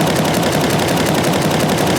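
Sustained automatic gunfire with the trigger held down in the Battlefield 6 video game, a loud, rapid, unbroken stream of shots close up, with no talking.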